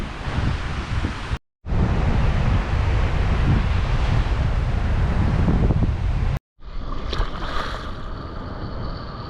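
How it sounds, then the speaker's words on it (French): Rough surf breaking continuously on a wild Martinique beach at Le Diamant, a loud roar of churning waves with heavy wind buffeting the microphone, broken by two short cuts to silence. "Il y a beaucoup de vagues. C'est très agité."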